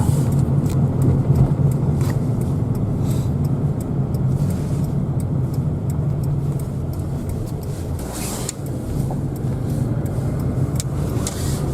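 Interior of a Lada Kalina car driving through town near an intersection, a steady engine and road rumble with tire noise and faint ticking, a short swell of passing traffic partway through.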